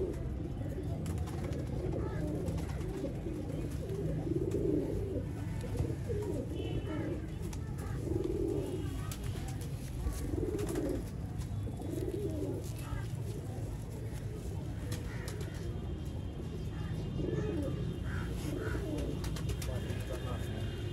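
Pigeons kept by a fancier coo in soft, repeated bursts against a constant low background rumble, with faint chirps scattered throughout.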